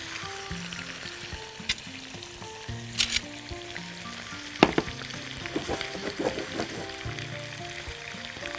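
Onion frying in a pan gives a steady, close sizzle that continues throughout, with scattered crackles and a few sharper pops, over faint tonal background sounds.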